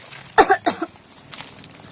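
A pair of sharp, close coughs in quick succession, then quiet room noise with a faint rustle.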